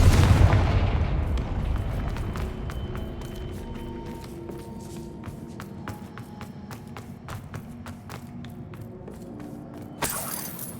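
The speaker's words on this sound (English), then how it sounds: "We can blast through it, I'm certain. Confringo!" A Confringo spell blasts through a barrier in the Hogwarts Legacy video game: a heavy boom at the start rolls into a long decaying rumble with scattered crackles and debris clicks, then a second sharp burst near the end.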